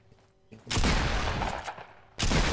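Loud shotgun blasts in the Fortnite Battle Royale video game, a long booming burst followed by a second blast near the end, both close and sharp.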